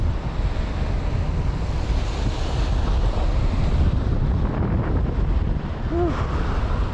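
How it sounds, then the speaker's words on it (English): Wind rushing past while city cycling on a cool late-summer ride, a loud, steady roar of gusty air buffeting the microphone throughout the whole stretch, with no talking. "Oh, I'm loving that wind."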